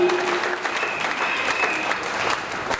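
French-speaking church congregation at a prayer marathon applauding loudly for the Lord, dense sustained clapping that fills the room evenly from start to finish.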